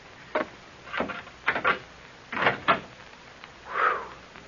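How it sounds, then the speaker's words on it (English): An old door in a radio drama sound effect, heard as a series of separate wooden creaks and knocks at a moderate distance in a muffled, band-limited recording with no talk. "This is the door, I think."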